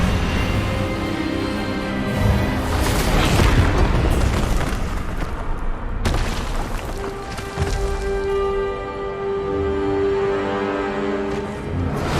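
Expelliarmus spell blast in Hogwarts Legacy, a loud booming burst layered over a dense rumbling magical surge, with a sharp crack midway and a sustained ringing tone trailing after.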